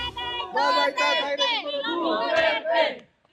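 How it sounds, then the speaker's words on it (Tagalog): Supporters cheer and shout outside the ICC Detention Center in The Hague, Netherlands, a loud continuous crowd roar of many overlapping voices with rising yells, ending abruptly. "ang hiyawan ng mga taga-suportang araw-araw nag-aabang sa labas ng ICC Detention Center sa The Hague, Netherlands"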